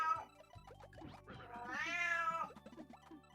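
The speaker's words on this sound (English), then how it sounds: "Also, shoutouts to the cat." A cat meows, one drawn-out rising and falling call in the middle, set over a background of quiet game music and blips.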